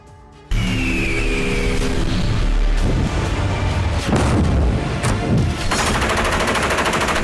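Heavy gunfire roars from warships during a large military exercise, a dense continuous barrage that is loud, close and unbroken for several seconds, with no voices.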